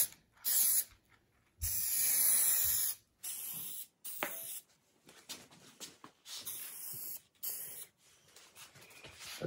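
Spray paint hisses in short and longer bursts while a car dash bezel gets light base coats, the sprays separated by brief pauses and occasional clicks of the can, close and fairly quiet with no talking.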